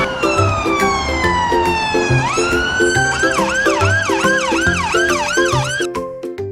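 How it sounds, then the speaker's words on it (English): An ambulance siren wails loudly and close by, first a falling tone and then a rapid repeating yelp, with a pulsing horn pattern underneath. "It's an ambulance."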